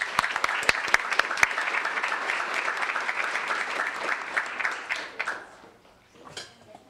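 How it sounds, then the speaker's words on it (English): Applause at a fall sports banquet for volleyball, cross country and girls golf, with a few loud close claps over steady crowd clapping that tapers off, then brief murmurs. "Round of applause"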